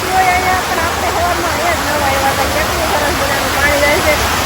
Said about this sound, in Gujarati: કેટલો પાણીનો અવાજ સરસ મજાનો આવતો હોય